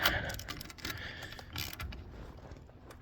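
A sewing machine runs quietly and continuously, a soft mechanical whir and clatter throughout with no talking.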